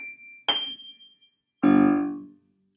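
A piano plays two closing notes of a lesson piece called "Boom Boom": a brief higher tone, then a fuller final note that ends the phrase and rings out before fading to silence.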